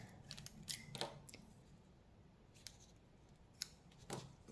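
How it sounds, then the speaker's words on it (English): Scissors snip through paper while cutting a Z-fold card, giving a few crisp, close cuts spaced across a quiet room with no one talking. "And snipping it off."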